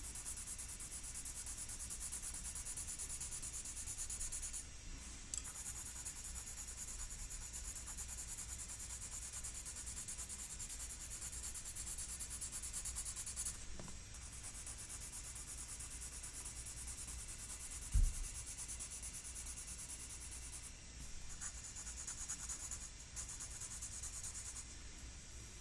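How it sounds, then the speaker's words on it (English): A soft 6B pencil with a blunt bevelled point shades across paper, a steady quiet rubbing and scratching that runs on with a few brief pauses and small taps, no talking. "I'm just going to use my 6B by itself, my bevel point, which is soft, not sharp and pointy"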